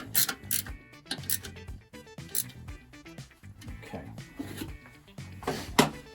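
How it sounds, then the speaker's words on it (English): Spanner work on a supercharger bolt on an aircooled VW engine, close metallic clicks and ratcheting bursts in irregular strokes, fairly quiet with small knocks between. "10mm spanner, and at the back of the supercharger here, again where you've got that oval slotted hole for the back, just tighten that up as well"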